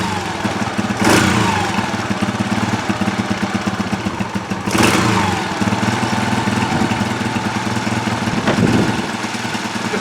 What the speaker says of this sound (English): although I think it's only struggling to idle because it's cold